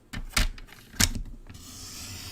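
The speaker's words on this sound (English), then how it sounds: "I am going to use my Stampin' Up trimmer. I'm going to cut a 1 1/4 inches" A Stampin' Up paper trimmer cuts paper in a quiet room: two sharp clicks as the blade is set, then a soft sliding scrape as it runs along the sheet. Close and alone, with no talking.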